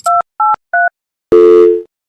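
A telephone is dialed: three short, loud, clean touch-tone beeps in quick succession, then a longer steady tone that fades out.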